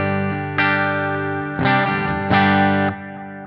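An electric guitar played through the Blue Cat Audio Axiom amp plugin with reverb rings out in distorted sustained chords, changing three times, loud and alone.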